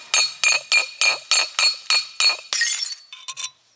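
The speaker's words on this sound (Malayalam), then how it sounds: "ഇതേപോലെ ഒരു സാധനം എടുത്തിട്ട് ബീറിൻ്റെ ബോട്ടിൽ ഇവിടെ വെച്ചിട്ട് ഇങ്ങനെ പൊട്ടിച്ചിട്ട്" A glass beer bottle is struck repeatedly to break it. About eight sharp, ringing clinks come at a steady beat, then a harsher crash and a few scattered tinkles of glass, close and loud.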